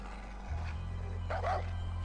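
In the video game Far Cry 4, a couple of short dog barks and yips stand out near the end over a constant low in-game drone, with no speech.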